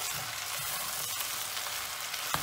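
Tomato paste and peppers fry in a pot while it is browned for a home-cooked stew, giving a steady, close, continuous sizzle with a faint clink near the end.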